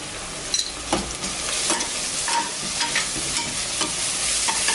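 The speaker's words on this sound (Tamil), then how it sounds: "இப்போ வெங்காயம் நல்லா வதங்கிடுச்சு" Onions sauté in a pan with ginger garlic paste for fish biryani, a loud constant sizzle with scraping stirs repeating every second or so.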